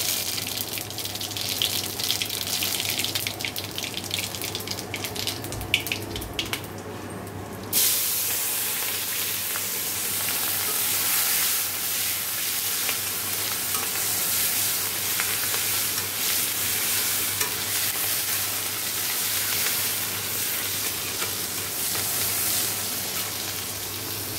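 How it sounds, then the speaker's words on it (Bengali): Whole radhuni seeds hit hot oil in a pan after the fish has been fried, setting off a loud hissing sizzle that drops partway through and then settles into a steadier, slightly fainter spitting hiss. "এবার আমি রাঁধুনি ফোড়ন দিয়ে দেবো।"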